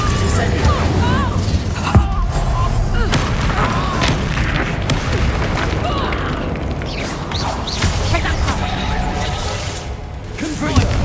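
Fiery spell blasts from the Hogwarts Legacy game, with Confringo and Incendio cast in a fight, sounding as booming bursts and mechanical clatter under steady loud battle noise, while a voice speaks over the action.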